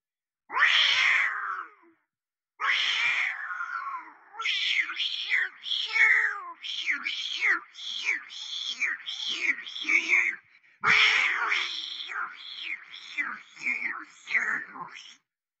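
A person mimics two cats fighting, with rapid overlapping yowls, wails and hisses in bursts, loud and close, broken by a couple of brief pauses.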